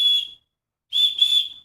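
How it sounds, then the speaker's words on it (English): A whistle blown as a signal for a search line gives three short, shrill, steady blasts, a brief one, a pause, then two close together. "Whistle signals."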